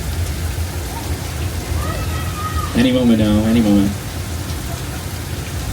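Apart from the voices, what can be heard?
artificial rain effect on Universal Studios tour set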